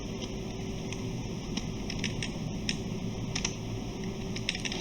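Quick bursts of keystrokes on a computer keyboard, entering a name into a Python input prompt, light clicking in irregular clusters over a steady background hum, close and moderate in level with no talking.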